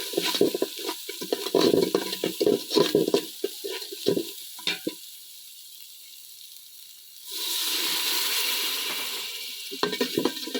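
Spice paste with ground coriander frying and being stirred in a pot for a biryani made with fried rice. Sharp scraping stirs and sizzling come first, then a lull, then a steady loud sizzle with a few more clinks.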